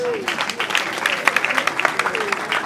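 A small group claps briskly and unevenly at a funeral service for a choir, the patter rising and falling, while a voice carries on over it.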